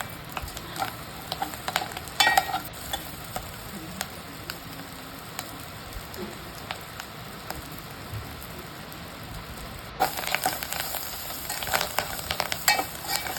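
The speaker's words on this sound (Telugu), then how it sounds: "బాగా కలుపుకుంటూ ఈవెన్గా ఫ్రై చేసుకోవాలి." Chenangi leaves with coriander frying in a pan, a steady close sizzle with repeated stirring scrapes throughout, louder again near the end.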